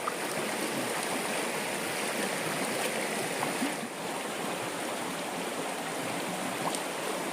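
A river flows in a steady, close rushing wash during a riverside camp, continuous and fairly loud throughout with no talking.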